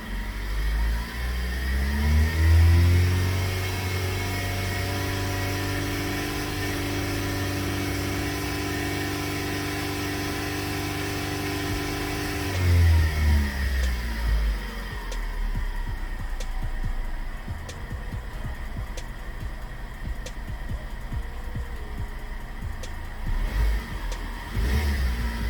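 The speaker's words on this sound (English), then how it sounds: "Let's go ahead and accelerate it." Car engine revving up during a scan tool test, a loud close rising roar that settles into a steady idle hum, then a second rev before easing back, with no talk.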